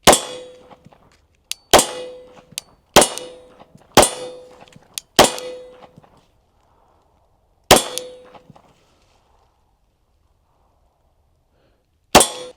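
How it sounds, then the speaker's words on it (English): Loud, sharp pistol shots from a Glock 17 fitted with an Aimpoint Acro sight come in uneven spacing, seven reports with brief ringing tails and clear gaps of silence between them, and no talk. "shooting the Glock 17"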